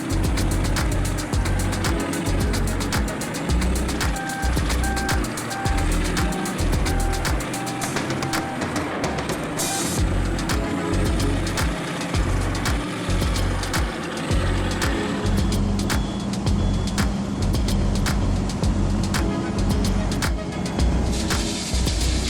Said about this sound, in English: The large displacement engine roars like thunder, sending all the horsepower to the bucket blade